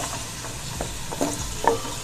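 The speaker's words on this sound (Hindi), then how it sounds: "प्याज डालेंगे।" Onions frying in a pan for a chicken pulao masala, a soft continuous sizzle broken by a few scraping stirs and light clinks.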